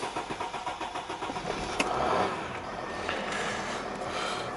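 A Mercedes-Benz ML350 CDI 3.0 diesel engine, just started, idles with a steady low rumble heard from inside the cabin, with a few small clicks and rubbing sounds over it.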